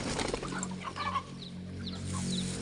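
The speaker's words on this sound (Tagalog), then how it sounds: "magpapakain po tayo ng mga manok dito sa ating bakura" Backyard chickens cluck softly and intermittently at feeding time, several birds close by over a low, steady background hum.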